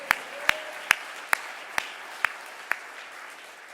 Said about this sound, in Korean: 다 같이 하나님 앞에 영광의 박수 올려드립니다